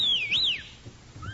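A person whistles to call a horse in an old-time radio drama, a bright, loud two-part whistle dipping and rising sharply, then a fainter short whistle near the end.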